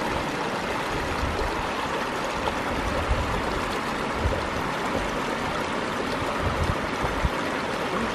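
Steady river water rushes and flows continuously, a broad even wash of sound with no voices over it, close and moderately loud throughout.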